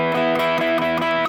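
Distorted electric guitar plays a riff with an extra note added, a thick sustained chord-like riff with rich overtones through an effects unit, steady and loud throughout.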